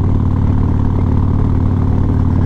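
A Harley Road Glide engine fitted with an S&S 475 cam and aftermarket exhaust idles close by in a steady, deep, loping rumble throughout.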